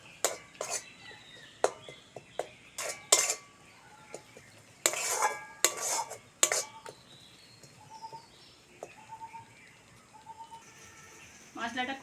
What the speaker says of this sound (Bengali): হাফ চামচ বেসন, রেড চিলি পাউডার, কাঁচা লঙ্কা। মশলাগুলো আবারও ভালো করে কষে নেব।